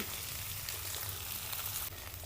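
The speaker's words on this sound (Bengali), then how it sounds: "এরপর ফেটিয়ে রাখা ডিম দিয়ে দেব" Beaten egg poured into a pan of frying onions with chilli and chopped coriander, a dense, steady sizzle up close that drops off slightly near the end, with no talking.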